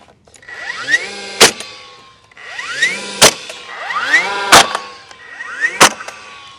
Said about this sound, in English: I'm going to drive one nail.